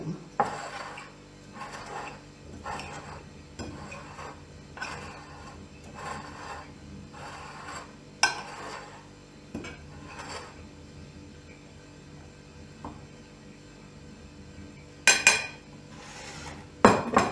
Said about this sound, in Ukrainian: Сир з зеленню перемішуємо.